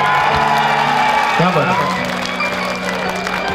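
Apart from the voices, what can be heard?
audience clapping with both hands raised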